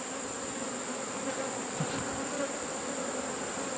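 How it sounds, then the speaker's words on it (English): A dense swarm of honeybees in a swarm trap hums loudly and steadily, the buzz constant and close throughout without pause, and no one speaks over it. "So many bees, they're like liquid."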